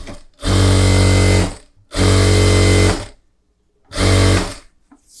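A sewing machine stitches a blouse collar in three loud, close bursts of rapid whirring, each lasting about a second, separated by short pauses.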